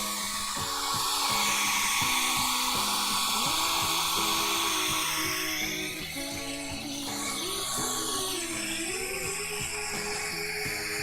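Whirring blow dryer running steadily close by while drying acrylic paint, a continuous motor whine with shifting pitch, with a voice and background music under it.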